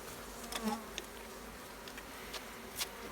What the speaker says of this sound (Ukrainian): трохи менше бджіл